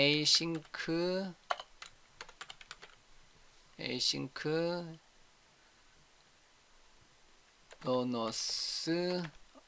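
Someone types on a computer keyboard while writing C# code, the quick key clicks coming in short bursts between and under stretches of someone talking.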